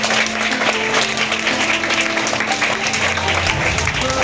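Students clap for a candidate in a school election at Akshara School, Piduguralla. A dense, steady round of applause from a group fills the room throughout, with voices mixed in.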